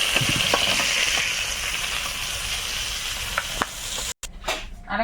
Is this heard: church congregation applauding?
no